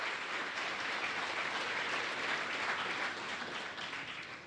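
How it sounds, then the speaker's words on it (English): Audience applause for a contestant at a dairy festival scholarship pageant, a dense steady wash of clapping filling the room at a sustained level and easing off slightly at the end. "Round of applause for Liliana Fournier, contestant number 5"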